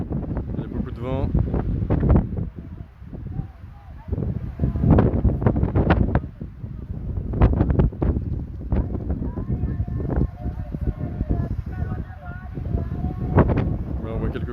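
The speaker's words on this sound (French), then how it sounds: "il y a beaucoup de vent" Strong wind buffets an outdoor microphone at a cross-country mountain bike race course near Marseille, a loud, continuous rumbling roar with gusty swells, while a commentator speaks over it.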